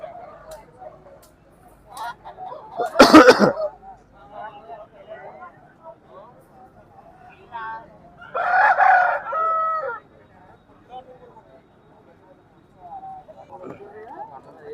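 A rooster crows twice, a sharp loud call early on and a longer one later, amid background chatter and scattered voices of a busy outdoor poultry market.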